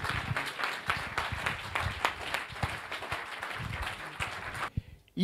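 A church congregation claps and applauds during an evangelist's French-language sermon, a dense steady patter that runs for several seconds before cutting off abruptly near the end.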